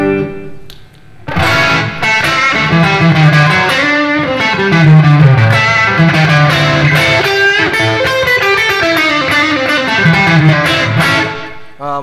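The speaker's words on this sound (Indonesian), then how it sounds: "Kita coba ke overdrive-nya ya. Tadi itu dia ada dua switch, distorsi sama overdrive." Electric guitar played through the overdrive channel of an inexpensive two-switch distortion/overdrive pedal, a steady stretch of gritty, sustained chords and riffs at close range, loud and continuous with no talking.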